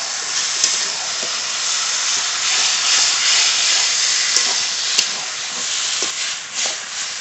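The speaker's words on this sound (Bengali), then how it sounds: "মশলা মাখানো চিকেন দিয়ে দেব।" Marinated chicken sizzles in a pan of fried spice paste, giving a loud, continuous hiss with faint clinks and stirring sounds throughout.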